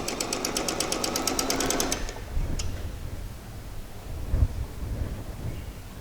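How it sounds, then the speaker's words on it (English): A sewing machine stitching fabric, a rapid steady mechanical chatter for about two seconds that then stops, followed by quieter handling noises and low thumps. "Continue stitching."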